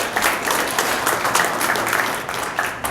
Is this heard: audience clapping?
yes